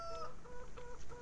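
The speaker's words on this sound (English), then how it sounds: "I'm gonna go see our chickens." Chickens cluck in a farming simulator game, a short run of soft, repeated game clucks at moderate distance with no talking.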